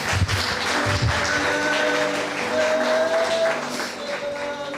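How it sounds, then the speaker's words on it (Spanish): Congregation at a Spanish-language church service applauds, with clapping over sustained musical tones from a keyboard or organ, steady and fairly loud with a few heavier thumps near the start. "Denle un aplauso fuerte a Cristo"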